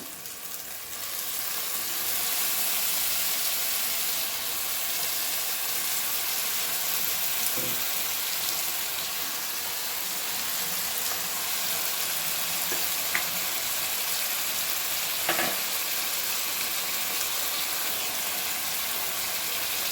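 Chicken sizzles and fries steadily in a pan of biryani masala with turmeric and chili powder, a dense continuous crackle with a few faint utensil knocks, and no talking.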